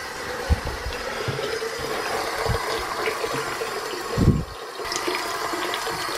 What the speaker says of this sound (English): I'm filling the sink up again with hot water